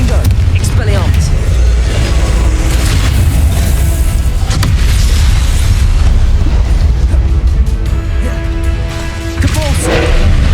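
Hogwarts Legacy combat plays out with repeated Confringo spell explosions booming loudly through a dense, continuous din of magical impacts and effects, with a voice sounding in the mix.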